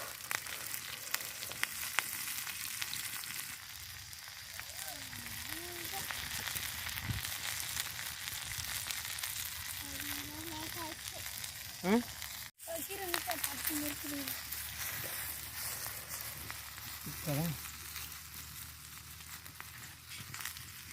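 Fish, likely ailai mackerel, sizzling in a pan at a village cooking fire, a steady crackle under intermittent talking.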